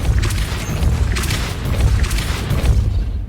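Depulso spell impacts in Hogwarts Legacy, a run of deep, heavy booms pulsing in quick succession, loud and close, with crackling bursts on each hit.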